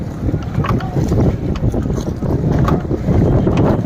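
A boat moves along the river at Triveni Sangam, its loud, rumbling engine and water noise buffeted by wind on the microphone, steady and close throughout.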